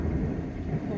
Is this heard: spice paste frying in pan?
no